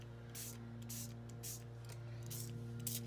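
Several short hissing bursts from a spray pen onto an all-purpose craft mat, fairly close, repeating at irregular intervals over a steady low electrical hum.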